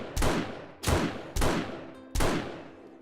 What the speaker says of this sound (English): Okay, unmodified Marksman rifle.